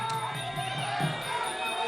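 Supporters of a Muay Thai fighter cheer and shout in a crowd at a Thai boxing bout, a steady dense roar of voices through the whole moment.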